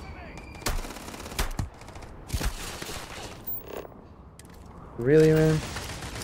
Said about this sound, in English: Oh, is those losers shooting from over there?